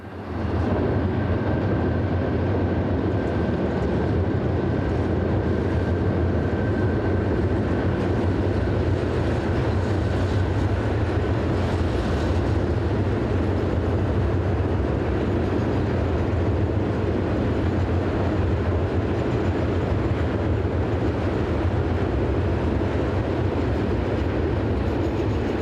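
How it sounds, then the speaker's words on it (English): A new SNCB Class 77 diesel locomotive hauls a molten iron train to Seraing, its engine a loud, steady rumble with rolling wagon noise and a faint whine sustained for the whole passage. "a new SNCB Class 77 diesel heads one of the frequent molten iron trains to Serang"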